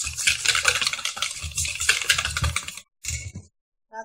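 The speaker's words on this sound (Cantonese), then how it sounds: "分3次加個蛋黃落去， 盡量快手咁樣攪勻佢啦" Egg yolks are quickly stirred into Japanese cheesecake batter, making rapid clicking, scraping strokes against the bowl in a busy irregular rhythm that stops briefly, then returns with a few short final strokes.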